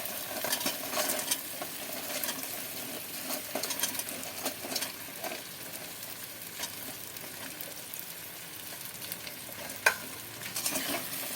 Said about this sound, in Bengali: এবার আমি এতে বড়াগুলো তুলে দিচ্ছি